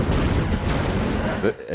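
Explosions and gunfire from the 2009 film Avatar make a dense, loud, continuous roar of blasts and rumbling booms that briefly dips near the end.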